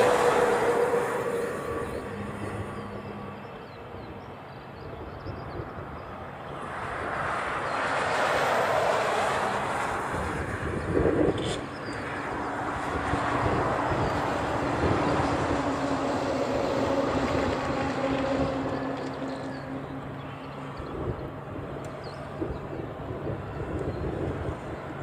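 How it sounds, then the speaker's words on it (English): A Jetstar airliner on the reef runway at Honolulu airport gives a steady, loud jet roar that swells and holds for the full length, with a broad rushing wash and no talking. "Jetstar should be next on the reef runway."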